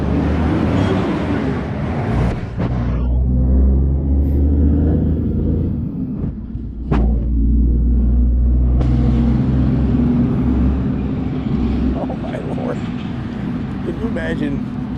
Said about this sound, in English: Why are trucks so loud?